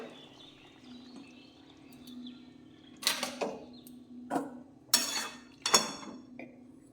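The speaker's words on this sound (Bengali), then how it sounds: "ঢেলে দিচ্ছি ডালটা" Cooked moong dal with pumpkin is emptied from a pot with several sharp scraping bursts of a metal ladle against the pot. Soft kitchen clinks and faint background sounds fill the gaps between them.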